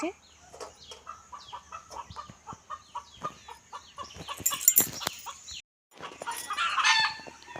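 Chickens cluck in short repeated bursts nearby, with a rooster crowing near the end.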